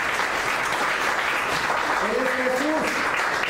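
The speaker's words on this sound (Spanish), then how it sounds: "Denle una ofrenda de palmas a Él." Church congregation clapping in an offering of applause, a dense steady wash of many hands throughout, with a preacher's voice and some cheering rising beneath it.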